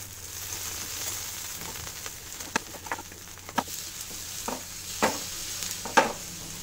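Leftover rice uttapam cooks in a pan with a little oil, giving a soft, steady sizzle with scattered crackles and a few sharper spatula taps; no one speaks.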